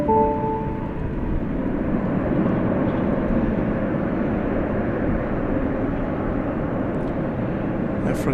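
A Frontier Airlines Airbus A321 arriving from Denver at DFW Airport at night, a continuous loud jet roar and rumble that holds steady, heard alone with no voices.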